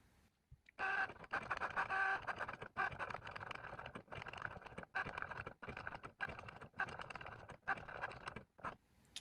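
A Cricut Joy cutting machine cuts mountain shapes from gray material, giving off a faint, close series of whirring motor runs and scraping strokes broken by short pauses and clicks.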